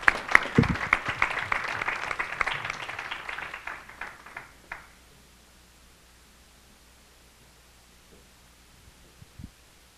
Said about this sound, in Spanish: Un aplauso, por favor, para Eric.